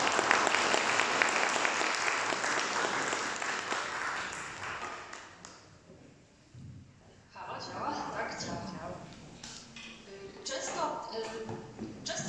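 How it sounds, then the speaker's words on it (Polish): An audience at a talk applauds guests with a dense, loud burst of clapping that gradually thins out and fades, leaving scattered claps and murmuring near the end. "Jeszcze raz wielkie brawa dla naszych gości"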